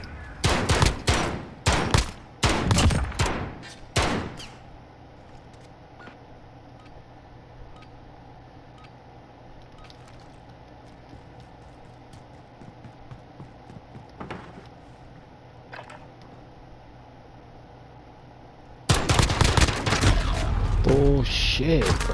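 Automatic gunfire in Call of Duty: Modern Warfare, loud rapid bursts at the start, a quieter stretch of faint distant shots, then another dense close burst at the end.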